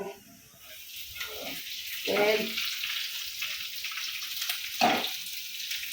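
Sliced onions added to browned garlic frying in oil in a pan: a steady, soft sizzle runs throughout, with two brief louder hissing bursts as ingredients go in, close and moderately quiet.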